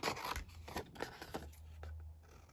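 Scissors snip through paper while cutting out a Valentine's craft piece, several short crisp cuts at close range in irregular rhythm, no talking.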